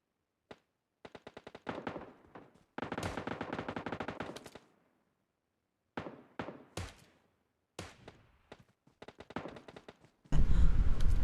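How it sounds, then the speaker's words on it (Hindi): Gunfire from a battle royale video game: repeated bursts of automatic fire and single shots in separated clusters, crisp and fairly close, with a louder noisy burst at the end and no talking. "फायरिंग की आवाज़ आ रही होती है"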